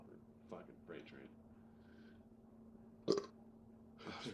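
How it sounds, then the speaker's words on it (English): Burps let out aloud during a casual stoner chat, a few short faint belches over a low steady hum, with a louder one near the end. "So everybody's burping aloud on this broadcast"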